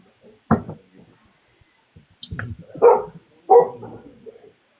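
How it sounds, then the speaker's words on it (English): A pet dog barks indoors in a few sharp, separate bursts spaced over several seconds, loud and close, with quiet gaps between and no talking. "Sorry, my dog's barking."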